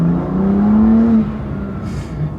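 Intake and engine of a tuned BMW M2 CS with a Carbahn Stage 2 piggyback, heard close as the revs climb steadily for about a second, then ease off into a lower, steady drone.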